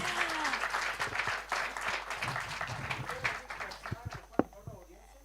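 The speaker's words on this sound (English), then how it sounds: "can we have a round of applause" An audience at an AI summit applauds a panel, with a dense round of clapping that thins out over several seconds while voices talk nearby and a few sharp single claps stand out near the end.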